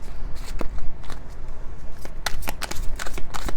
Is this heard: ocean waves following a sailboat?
no